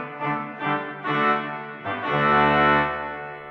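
A pipe organ's tuba mirabilis, a very strong reed stop, plays several loud sustained chords in sequence, brassy and bright with a deep pedal note entering under the final long chord.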